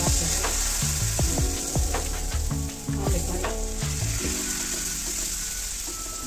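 Vegetable batter for an eggless omelette frying on an oiled dosa griddle, a loud close sizzle with rapid clattering scrapes and taps of a spatula, easing toward a steadier hiss.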